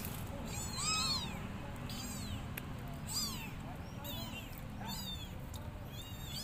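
Tiny kittens meowing in high, thin cries, several overlapping calls in repeated bursts over a steady outdoor background hum.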